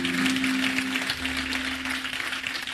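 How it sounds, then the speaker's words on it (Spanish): A church congregation at a conference session breaks into steady, dense applause, a continuous wash of clapping with a low hum running underneath. "Vamos a darle un aplauso"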